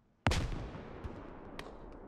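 A single grenade in the tactical shooter game Squad detonates with a sudden loud boom that decays into a long rumbling tail, with a couple of fainter distant cracks following.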